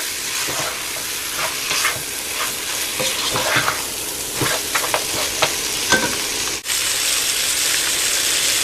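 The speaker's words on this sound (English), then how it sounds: "the oil sizzling" Oil sizzles and crackles steadily in a pan as goat meat is sautéed with masala and stirred, a constant loud hiss with scattered pops and scraping, no voices.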